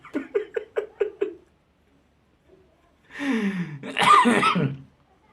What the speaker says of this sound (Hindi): खांसी हो गल बा यार, ऐसे तनी सा डिस्टर्ब हो जाता वीडियो बनाने में